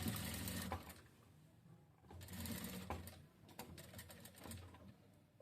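A sewing machine stitches a katori blouse in bursts of rapid mechanical whirring, pausing briefly between runs, close and steady with no voices.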